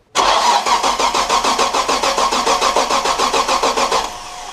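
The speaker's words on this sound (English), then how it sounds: "just crank it for like a few seconds." A Nissan Patrol engine, freshly refitted with intake and exhaust manifolds, cranks on the starter in a steady rapid chugging rhythm for about four seconds, loud and close, without catching, then cuts off.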